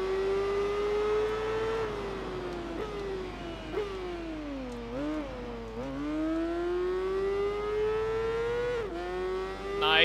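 A Yamaha motorcycle engine screams through a race in Tourist Trophy, high steady whine rising and dipping with gear shifts and cornering, close and loud with no talk.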